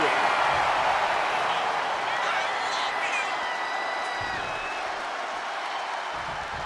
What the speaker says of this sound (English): And John Cena is getting the crowd going.